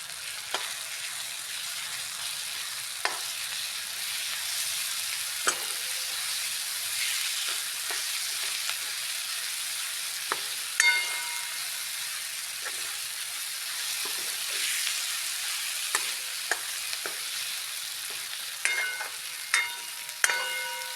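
Garlic-chili mixture frying in oil for a Gujarati chana curry, a soft continuous sizzle with occasional sharp clicks and scrapes of a spoon stirring the pan, no voices.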